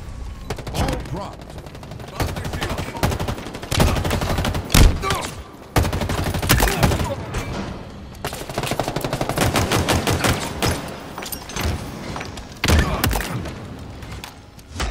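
Weapons fire in the video game Halo Infinite during a team doubles match: rapid bursts of loud gunshots repeat in clusters with short pauses, mixed with booming impacts, close and dominant throughout.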